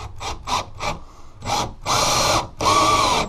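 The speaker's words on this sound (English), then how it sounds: "Now we can drive in a screw and hopefully we'll hit that stud." A power drill runs in several short bursts, then longer strained runs as it drives a screw into a wall stud, close up and loud.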